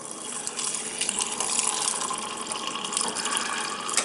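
Water pouring from the door dispenser of a Whirlpool side-by-side refrigerator, a steady close hiss and splash of liquid filling a glass, continuous and fairly quiet with no talking.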